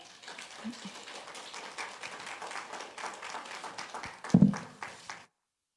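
A church congregation gives applause, a fairly soft, steady patter of many hands clapping that swells briefly near the end before cutting off abruptly.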